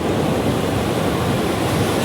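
Sea waves roar at Calangute beach in Goa, a loud, unbroken wash of surf noise that holds steady for the whole two seconds with no voices.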